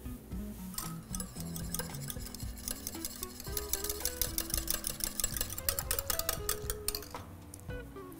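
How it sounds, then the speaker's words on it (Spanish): Two ingredients for a tres leches sponge cake mixed in a bowl, a steady rapid clinking and scraping of utensil against the bowl, growing busier and louder midway, close and without talk. "Automáticamente lo que vamos a hacer es mezclar muy bien nuestros dos ingredientes."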